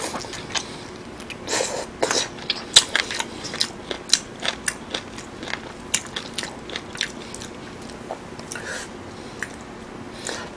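Close-up mukbang chewing of braised Korean LA galbi short ribs: wet, sticky bites and crunchy chews in an irregular rhythm, with clicky smacks scattered across a quiet background.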